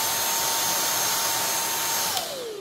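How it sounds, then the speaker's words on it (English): A Beko vacuum cleaner runs with a steady high whine and airy hiss, loud and close, then its pitch drops as the motor begins to wind down near the end. "Oh, it's on. I think this is for like if you want to vacuum your car."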